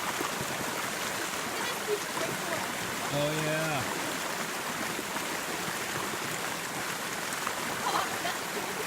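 Creek water rushing and splashing steadily beside people floating downstream on a summer outing, a broad continuous wash with a brief spoken remark over it.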